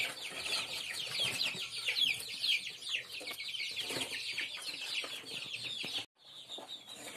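Young chicks in a brooder fill the space with dense, continuous high peeping and clucking, many birds at once and close by, with a brief pause near the end before the chirping resumes.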